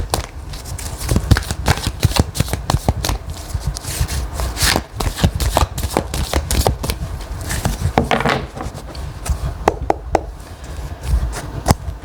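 Tarot cards shuffled by hand in a steady run of crisp riffling and slapping, close and loud throughout with no talking.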